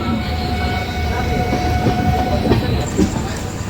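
Kamrup Express train pulling out of Diphu station, a steady close rumble with rhythmic clickety-clack of wheels over rail joints and a faint high whine, continuous throughout.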